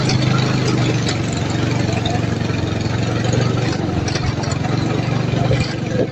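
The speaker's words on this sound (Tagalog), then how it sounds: "Diri lang niya itong motor guys." A motorcycle engine idling on a mountain outing, giving a steady, close, loud low rumble with a fast, even pulse while voices talk over it.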